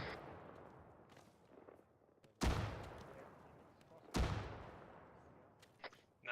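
Two loud, sharp frag grenade blasts in ArmA 3 go off a couple of seconds apart during a grenadier qualification exercise, each with a long rolling decay over faint background chatter.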